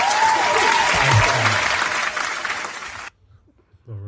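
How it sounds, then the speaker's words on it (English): A crowd applauds in a dense burst of clapping for about three seconds, then it cuts off abruptly, followed by a brief voice. "Round of applause."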